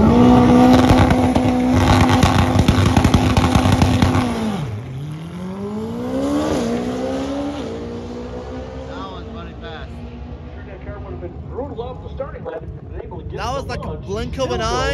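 A Corvette on a drag strip at Wild Horse Pass Motorsports Park in Chandler, Arizona, during an import face-off event. A loud, close engine roars at launch, then its pitch sweeps up through gear changes as the car pulls away and fades under wind noise.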